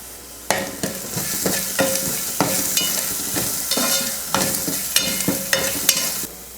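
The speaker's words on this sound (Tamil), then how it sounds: "எல்லாம் சேர்த்ததுக்கப்புறம் கொஞ்சம் நேரம் வதக்கிக்கலாம்." Boiled sundal sautéed in a pan with turmeric and salt: a steady sizzle with rhythmic spoon scrapes and knocks, close and fairly loud, with no talking.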